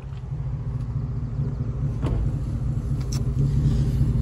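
Low steady road rumble from a car towing a trailer through a tight turn, engine droning close throughout with a couple of faint creaks and clicks, no talking.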